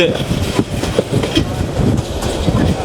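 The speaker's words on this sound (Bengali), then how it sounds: "পঁয়ত্রিশশো সিরিজের একটি লোকোমোটিভ নিয়ে ছুটে চলেছে" A train hauled by a 3500 series locomotive runs on a double line in Bangladesh, with loud, close rumbling and clickety-clack wheel beats repeating in quick rhythm.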